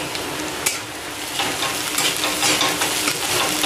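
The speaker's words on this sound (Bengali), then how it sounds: "এবার দিয়ে দেব গ্রেট করে রাখা আদা। আদাটা অল্প ভেজে নেব।" Grated ginger frying with onion and garlic in a pan in a village kitchen, a steady close sizzle with occasional stirring scrapes and no voices.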